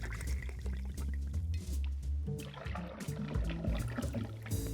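Gin, two ounces of Yukon Brewing gin, pours into a cocktail shaker while mixing a South Side cocktail, a steady liquid stream with splashy, gurgling texture lasting several seconds, close and fairly loud with no talking.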